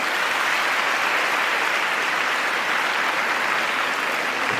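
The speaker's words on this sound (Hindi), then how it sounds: "जोरदार ताली।" Loud, sustained applause from a seminar audience on legal awareness, a dense steady wash of clapping with no break, greeting a woman invited onto the stage.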